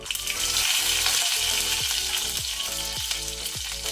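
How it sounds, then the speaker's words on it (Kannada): Hot oil on a low flame sizzles steadily while mustard seeds pop and crackle in it, with a few louder pops every half second or so. "ಸಾಸಿವೆ ಚಟಪಟ ಆಗಲಿ, ಕ್ರ್ಯಾಕಲ್ ಆಗಲಿ"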